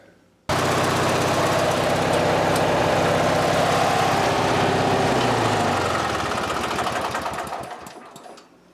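A Briggs & Stratton opposed-twin engine runs steadily inside a garage, loud and close, with a continuous rapid firing rhythm that dips in pitch and fades toward the end.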